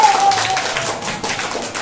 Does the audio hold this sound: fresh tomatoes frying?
no